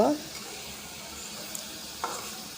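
Ripe green chillies stirred in a frying pan for a dried fish and jackfruit seed dish, a low steady sizzle with an occasional scrape of the spoon.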